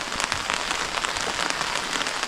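Steady rain pouring outdoors in the Yunnan countryside, an even, close wash of drops pattering on surfaces throughout, with no one speaking.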